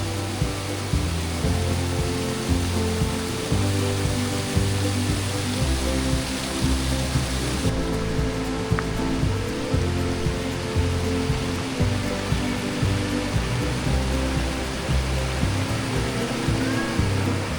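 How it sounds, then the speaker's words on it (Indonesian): A clear, fresh river stream at a family campsite in Ciputrawangi, Sumedang, flows with a steady, dense rush of water that stays loud and continuous throughout, with no talk. "Melihat aliran sungai yang jernih dan segar"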